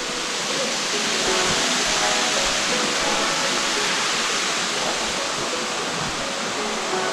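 Water gushes steadily into a river in Kurşunlu park in Turkey, a loud, continuous rushing roar that holds even throughout.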